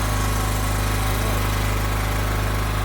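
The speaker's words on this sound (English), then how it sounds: "I'm curious as to what the generator will do when he arcs it." A portable generator runs at a work site, ready to power a welder, giving a loud steady droning hum with a constant low-pitched engine tone throughout.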